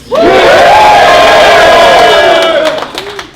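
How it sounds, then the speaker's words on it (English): A large crowd at a rap battle in Vancouver cheers and roars loudly all at once, a dense wall of shouting and whooping that holds steady before tapering off. "Vancouver, please make some noise."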